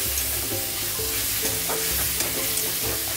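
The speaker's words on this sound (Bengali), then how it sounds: "দেখুন নাড়াচাড়া করে দিয়েছি একটা।" Boneless chicken pieces sizzle in a pan as they are stirred, a dense continuous frying hiss with light scraping of the spoon, close and even in loudness.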